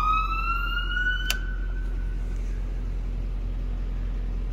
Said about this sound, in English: And that's going to be your siren.